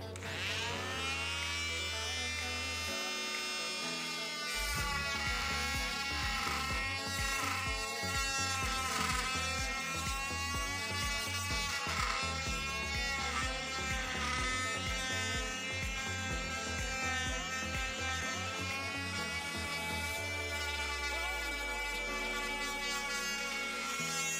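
Corded H&L oscillating multitool running steadily at close range, a continuous buzzing hum with strong harmonics and slight shifts in pitch, no talking over it.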